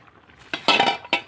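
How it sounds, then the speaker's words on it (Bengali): A metal lid goes onto a kadai holding bottle gourd, giving a couple of short close clinks and a brief rattle in a quiet kitchen. "এবার এর কড়াইতে ঢাকনা দিয়ে দেব"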